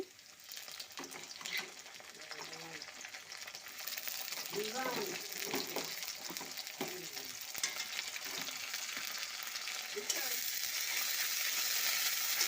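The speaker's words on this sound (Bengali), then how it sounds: "মশলাটা একটু কষিয়ে নেব" Onion, green chili, whole cumin and cumin paste frying in oil, a steady hissing sizzle that swells louder over time, with scraping stirs and some faint background voices.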